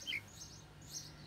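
A pet bird gives two or three short, high chirps close by in a quiet indoor room, with a faint steady hum underneath.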